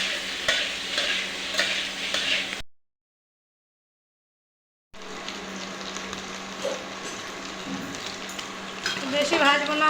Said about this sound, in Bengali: বেশি ভাজবো না, আমার পনির ফ্রাই হয়ে গেছে, একটু লাল লাল হয়ে গেছে